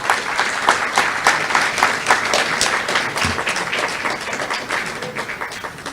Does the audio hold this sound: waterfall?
no